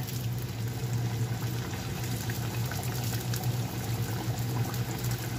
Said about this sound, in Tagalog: mainit na mainit yung ating mantika bago natin ilagay yung ating barmos